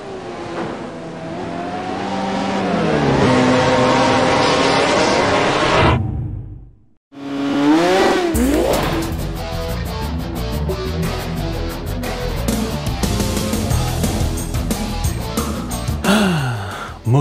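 Engines rev and rise in pitch, cut out briefly, then roar back with rapid mechanical rasping and whooshing passes, loud and close. Motorcycles in the video game Moto Racer by Delphine Software.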